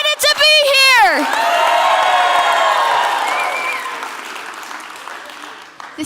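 Loud applause and cheering from a children's audience at a TEDxKids event, a sustained wash of clapping and whoops that follows a shouted voice and then gradually fades.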